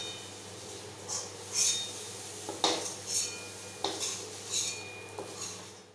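Fried prawns lifted from a pan with a metal utensil, several scraping clinks of metal against the pan spaced through the stretch over a low steady kitchen hum, with no talk.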